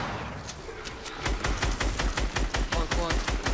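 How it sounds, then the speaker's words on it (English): Rapid automatic gunfire in Fortnite, fast evenly spaced shots, loud and close, picking up in density after a brief lighter stretch at the start. "You're shooting it from in there."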